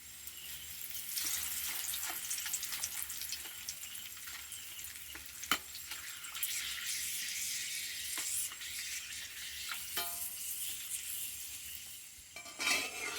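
Curry leaves fry in hot oil after peanuts, a steady soft sizzle with occasional stirring clicks and a brief clatter near the end.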